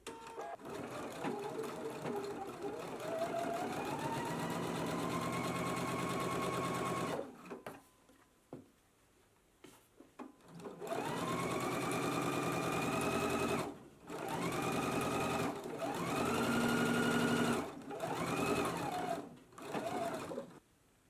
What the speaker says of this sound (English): So let's go ahead and do understitching after we have stitched the pocket onto the pant.